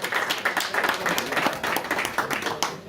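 Audience applause at a literary conference, a steady wash of many hands clapping for nearly three seconds with a slight fade at the close.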